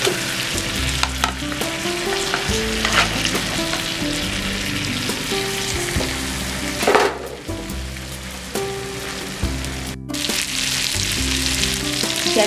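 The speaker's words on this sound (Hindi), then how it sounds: "चाप को हम एक साइड से गोल्डन ब्राउन होने तक अच्छे से फ्राई करेंगे।" Soya chaap for malai chaap tikka fries in a pan with a constant crackling sizzle and occasional stirring scrapes, mixed with steady background music and no voices.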